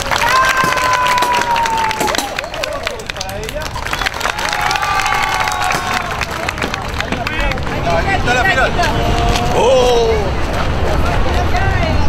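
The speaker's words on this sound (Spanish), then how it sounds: "Aplausos para ella." A crowd at a costume contest for characters such as a princess and warriors cheers and claps continuously. Loud shouts and raised voices sit over a dense babble of talk throughout.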